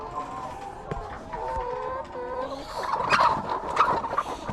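Backyard chickens clucking and squawking continuously at close range, a busy flock crowding together, with the calls growing louder and denser toward the end.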